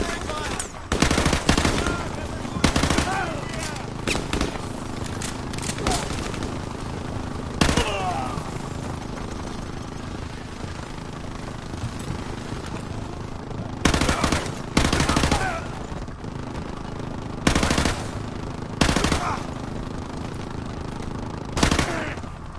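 Gunfire in the Modern Warfare video game, bursts of rapid automatic shots laying down covering fire, loud and close, in repeated volleys with quieter stretches of lingering battle noise between them.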